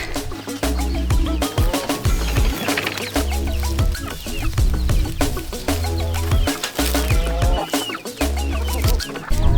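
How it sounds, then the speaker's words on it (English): A flock of chickens clucks and squawks loudly and continuously up close as they are put into a new fenced enclosure on a small farm, with overlapping calls and occasional rustling. "Now I gotta put the chickens in it."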